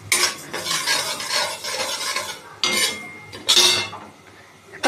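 Moong dal dry roasting in a pan, stirred with a utensil: dry, gritty scraping and rustling in long strokes with short pauses, close and fairly loud, no talking.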